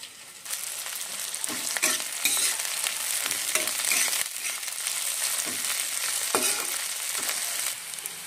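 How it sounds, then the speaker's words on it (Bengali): Slit green chillies and chopped garlic frying in hot oil while making a masoor dal dish, a steady close crackling sizzle with occasional stirring scrapes throughout. "এখন দেব চেরা কাঁচা লঙ্কাগুলো। আর দিয়ে দেব রসুন কুচি।"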